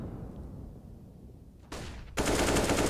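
Counter-Strike match on Dust 2 with a scout sniper in play: after a quiet stretch, a sudden loud burst of gunfire erupts and holds dense and close to the end.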